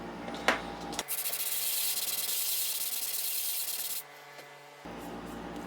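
Continuous abrasive rubbing from sanding a wooden knife handle scale, scrubbing steadily for about three seconds, then easing to lighter strokes before stopping; close and fairly quiet with no talking.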